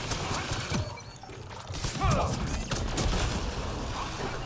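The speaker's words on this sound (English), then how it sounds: "Uh oh, you're shooting me." Gunfire in the video game Mass Effect Andromeda: a burst of sharp, close shots and impacts amid busy game noise, with a voice briefly audible.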